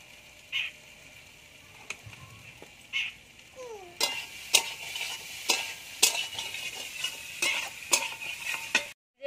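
Salt, turmeric and chili powder sizzle softly in oil for a gourd and fish curry, as a spatula scrapes the pan in repeated, close, sharp strokes that grow busier midway.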